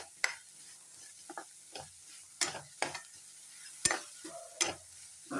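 Spice powders roast in a pan as they are stirred, giving sparse, quiet scrapes and sharp ticks of a spoon against the metal between soft pauses, heard up close with no voices.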